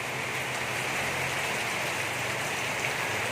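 Unbroken rainfall in the Philippines pours down as a constant wash of hiss, uniform in level from start to end, nearby, with no one speaking.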